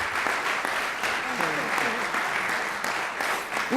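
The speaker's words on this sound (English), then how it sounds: "Please give her a wonderful round of applause." Applause rises from the audience for an honoree, a woman who supports veterans and their families across the county, at a Veterans Day ceremony in 2018. Steady, dense clapping fills the room throughout, with some faint voices mixed in.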